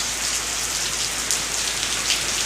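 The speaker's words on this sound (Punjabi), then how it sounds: "ਅੱਜ ਮੀਂਹ ਪੈ ਰਿਹਾ ਹੈ" Steady rain falls on surfaces nearby, a dense continuous patter with scattered louder drops, no voices.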